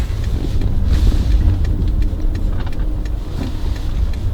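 A 2004 Lexus RX 300 with a 3-litre V6 pulls away, its low, steady engine hum and road rumble heard from inside the cabin amid some wind noise.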